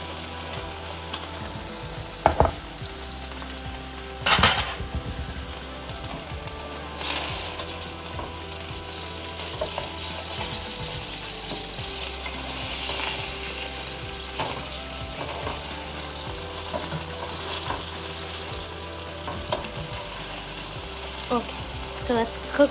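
Burger patties sizzle and fry in a pan over lowered heat after being flipped, a steady close crackle with occasional sharp clinks and scrapes.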